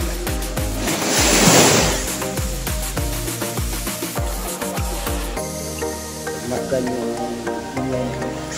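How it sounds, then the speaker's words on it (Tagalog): Ocean waves washing onto a beach on Samal Island, a steady surf wash with a swell in the first two seconds, over a faint rhythmic thumping background. "alon. Ang sarap pakinggan"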